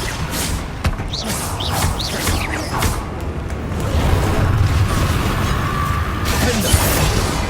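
Spell explosion from the Bombarda charm cast against Inferi in Hogwarts Legacy, a booming, thudding burst over a steady rumble of game combat noise, with other impacts and whooshing effects scattered around it.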